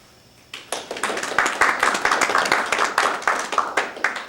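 Small audience at a freethought church gathering clapping in appreciation, starting abruptly after a quiet moment and continuing as a close, lively patter of several people's hands for about four seconds.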